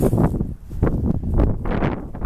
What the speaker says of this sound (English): really windy day and cold